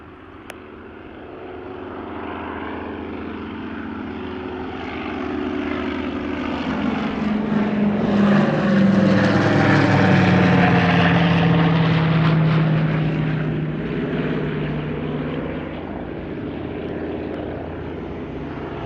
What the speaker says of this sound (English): In the lead, their S02G Tracker, followed by a C-47B Dakota, both aircraft being part of their Navy Heritage Flight.